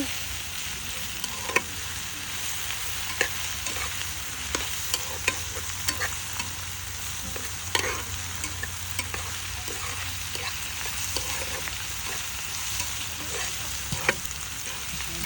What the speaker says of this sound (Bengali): পেঁয়াজ ভোনা হচ্ছে